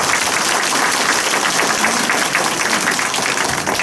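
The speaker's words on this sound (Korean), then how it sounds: "힘찬 박수 부탁드립니다." Loud, continuous applause from an audience at a residents' information meeting on housing conversion prices, a thick, even roar of clapping hands filling the room throughout, with no voices on top.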